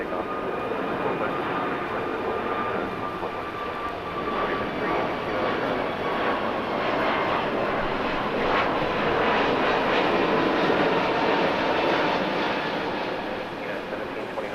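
A jet airplane takes off from runway 6 right at LAX during a storm, a continuous broad engine roar holding steady and fairly loud across the whole stretch, heard from a distance.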